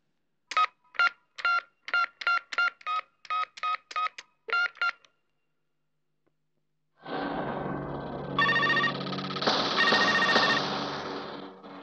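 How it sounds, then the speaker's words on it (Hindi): A mobile phone number is keyed in as a quick run of about eleven separate tone beeps, then after a short pause a loud, continuous ringing tone takes over and keeps sounding until the end. "जरा लुक्का का नंबर मिला।"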